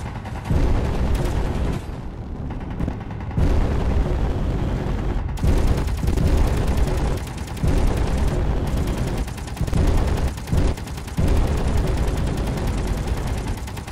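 Sustained heavy gunfire in Space Engineers as a target shoots back, dense rapid bursts broken by brief gaps, loud and close throughout.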